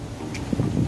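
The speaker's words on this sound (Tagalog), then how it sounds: "Ang lakas ng hangin pala dito" Strong wind blowing at an elevated outdoor lookout spot, buffeting the microphone with low gusty rumbles that rise and fall over about a second.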